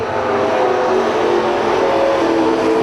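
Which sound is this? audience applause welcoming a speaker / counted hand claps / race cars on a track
race cars on a track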